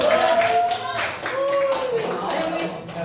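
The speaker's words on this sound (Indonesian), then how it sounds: "tepuk tangan dulu" Classroom full of students clapping hands together in a steady burst while children's voices chatter and call out over it.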